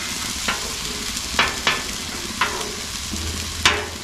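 Hash browns fry on a Blackstone griddle with a steady, close sizzle, broken by several sharp scraping clicks of a spatula at irregular intervals.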